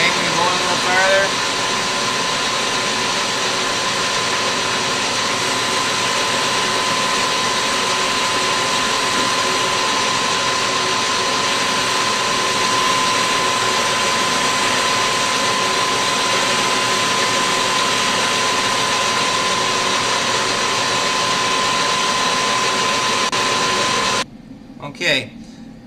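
Steady, loud machining drone runs continuously while a cut is taken on a screwdriver, an even mechanical hum with a constant tone that stops abruptly near the end.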